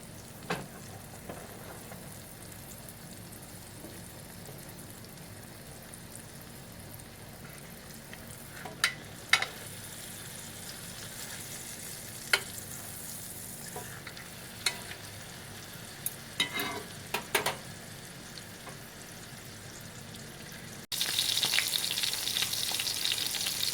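Steak sears in a pan with thyme and rosemary, giving a steady close sizzle and frying hiss with occasional sharp pops and utensil clicks. The sizzle grows louder and brighter toward the end.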